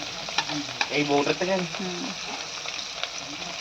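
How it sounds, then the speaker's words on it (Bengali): Rohu fish pieces fry in a pan in a village kitchen, sizzling steadily beside stirring and scraping, with a woman's brief speech over the sound. "আর এদিকে দেখো রুই মাছটা ভাজা চলছে"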